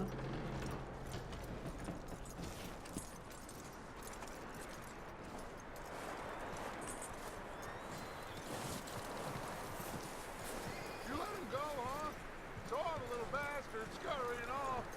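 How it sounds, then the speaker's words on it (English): A horse in Red Dead Redemption 2 clip-clops at a walk with rhythmic hoof beats, then neighs with a few whinnies near the end, over game ambience and faint talk. "That looks like a decent horse."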